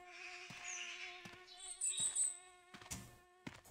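A fly in The Hunter Classic hunting game buzzes close by, its whine swelling and fading as it circles, over a steady tonal hum with a few soft thumps and clicks.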